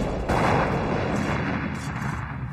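Cannon fire in a kung fu drama battle scene: a dense, loud burst of blast noise that starts abruptly after a brief quieter moment and sustains with rumbling booms throughout, with no talk.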